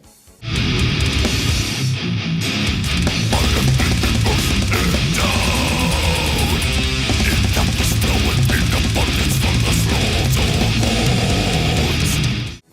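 Dense, heavily distorted electric guitar riff chugging continuously with loud drums, a thick wall of sound throughout.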